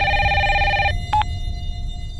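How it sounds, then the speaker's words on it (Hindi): A telephone rings indoors in a household, a bright electronic ringtone with steady stacked tones that cuts off abruptly, followed by one short beep. No voices are heard. "फोन क्यों नहीं पिक कर रहे हो? कब से बज रहा है?"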